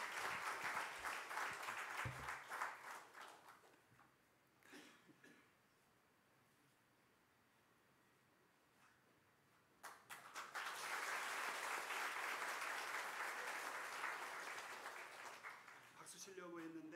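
A church congregation at an ordination and appointment service breaks into sustained applause, fading into a quiet pause with a few coughs before a second loud burst of clapping fills the hall.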